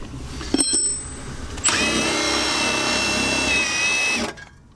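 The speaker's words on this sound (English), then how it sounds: "Now that's free, we can use the gun, so my little gun comes in handy." A small air impact gun rattles loudly for about two and a half seconds in one continuous burst, undoing a coilover nut on a UK-market Mazda MX-5, after a few short clicks and a brief tool blip.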